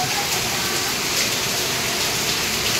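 A heavy downpour in Mumbai, seen from above near Siddhivinayak Nagar with the airport ahead, roars as a dense, constant wash of rain hitting surfaces, loud and unbroken throughout.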